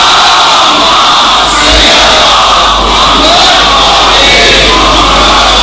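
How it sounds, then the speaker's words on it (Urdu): Congregation at a religious gathering loudly chanting salawat in unison, a dense roaring wall of many voices, continuous and close. "اس سے بھی بلند صلوات."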